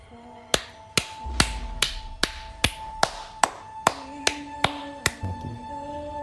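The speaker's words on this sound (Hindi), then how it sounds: "उसको पीछे से 2 तालियों की आवाज़ आती है।" Sharp hand claps in a horror story, about eleven crisp, evenly spaced strikes, each ringing briefly over a steady low hum, with no talking.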